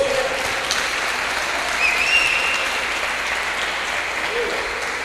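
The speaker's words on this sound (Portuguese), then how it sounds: "Quantos podem dar uma salva de palmas para o Senhor Jesus?" A church congregation bursts into loud, sustained applause for Jesus during a worship service, a dense wash of many clapping hands holding steady for five seconds, with faint voices and a brief whistle-like tone mixed in.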